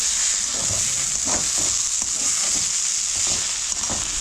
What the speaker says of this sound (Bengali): আমার কচুরির পুর একটু নাড়তে হবে তাও গ্যাস কমানো আছে